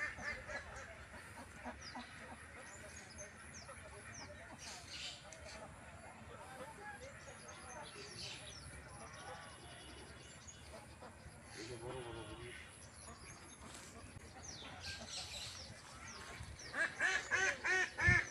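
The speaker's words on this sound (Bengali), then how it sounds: "ঝাঁক বেঁধে হাঁসগুলা দেখেন সাঁতরাচ্ছে পুষ্করিণীতে।" A flock of ducks swimming in a village pond quack softly and intermittently in the background, with a few louder calls near the end, under a person talking in Bengali.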